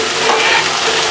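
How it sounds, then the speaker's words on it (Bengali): Spices and salt being stirred into hot oil in a pan for a vegetable dish, a steady loud sizzle with scraping from the spoon, close and continuous throughout the short moment, no voices. "তারপরে মশলাটা ভালো করে তেলের সাথে মিশিয়ে নেব।"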